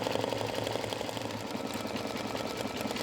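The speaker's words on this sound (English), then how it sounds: "So we let this embroider" A home embroidery machine stitching on fabric runs with a steady, fast mechanical hum and even rapid needle clatter for the whole stretch, close and fairly loud with no talking.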